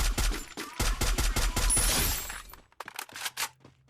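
Rapid bursts of automatic gunfire from the mobile battle-royale game Free Fire, loud and close with sharp repeated shots for about two and a half seconds, then a few scattered softer shots and game effects.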